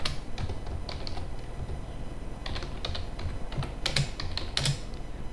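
Close computer keyboard typing while entering Python code, irregular bursts of key clicks with short pauses between them, no voice.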